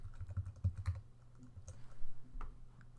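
Close computer keyboard typing, a short run of quick key clicks with a few heavier thumps, no speech over it.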